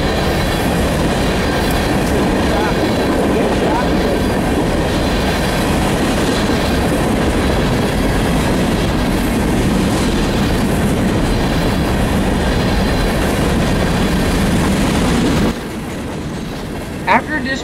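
A train rumbles steadily past up close in winter in Columbus, Ohio, wheels clattering on the rails with a broad roar that cuts off abruptly near the end.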